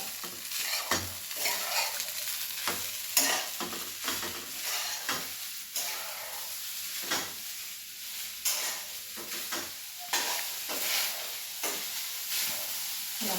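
Rice reheating and brinjal roasting in a pan, a soft steady sizzle and hiss broken by repeated scraping stirs, close and fairly quiet.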